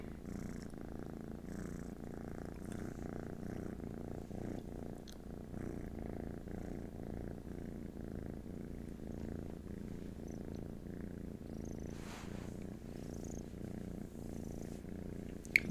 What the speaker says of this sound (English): let the kitten purrs take us out